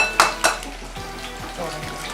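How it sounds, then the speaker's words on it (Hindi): Two eggs cracked for a fish batter, with two sharp close taps against a bowl's rim followed by soft dripping and quiet kitchen clatter. "पहले हम दोनों अंडे खोलेंगे और इनको"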